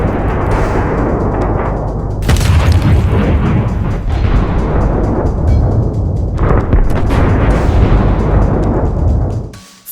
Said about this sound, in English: suddenly, the entire tank bursts into flames. The heated armor plates begin to explode.